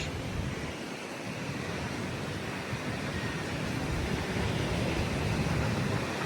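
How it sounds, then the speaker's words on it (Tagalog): Strong wind at a beach, with rain pouring, rushes as a steady broadband roar through the whole stretch and swells slightly toward the end, with no voices over it. "lumakas na naman yung hangin at bumuhos na naman yung ulan"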